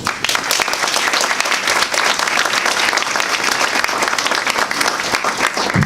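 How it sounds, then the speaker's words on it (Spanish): Sustained, dense applause from an audience at an Ibero-American congress on Alzheimer's disease research and brain banks, loud and steady throughout with no voices over it. "Por lo cual yo me gustaría que todos ustedes le dieran un fuerte aplauso a ellos."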